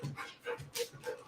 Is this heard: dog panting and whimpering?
yes